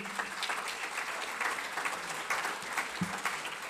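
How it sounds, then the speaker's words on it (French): An audience at a medal ceremony for the French Order of Agricultural Merit applauds in a steady, moderately quiet wash of clapping, with a few faint voices underneath. "Vous avez raison de l'applaudir."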